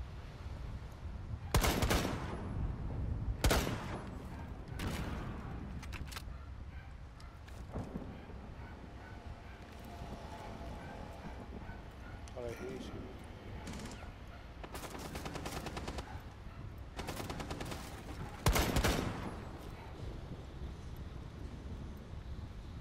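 Gunfire in the Rainbow Six video game: a few loud, sharp shots and short bursts over a steady low background, with longer quiet gaps between clusters.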